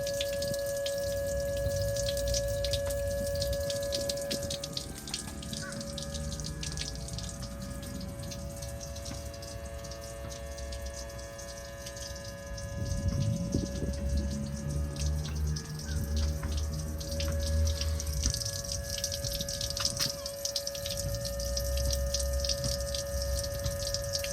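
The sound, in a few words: Sea-Doo OEM bilge pump flowing water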